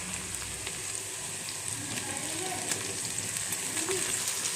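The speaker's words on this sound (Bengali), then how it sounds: "খানিকক্ষণ পেঁয়াজটা ভাজার পরে আমি দিয়ে দিচ্ছি টমেটো কুচি" Onion and chopped tomato frying in a pan, giving a steady, even sizzle with light crackles throughout, close and moderately quiet, while a voice talks over it.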